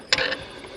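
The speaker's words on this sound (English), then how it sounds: "you watching the side of the injection pump with a spanner jiggling around" A spanner clicks and rattles against the injection pump bolts of a Fordson Power Major tractor crane under repair, giving a short metallic ratcheting burst that fades into a faint mechanical clatter.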